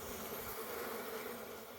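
Honeybees buzz densely over hive frames just moved into a new box during a hive split, a steady close-up drone with no talk.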